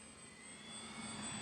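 An FMS Ranger 1220mm radio-controlled model airplane on a 3S battery flies past at about 60% throttle, giving a faint, steady motor whine that grows slightly louder, with no talking.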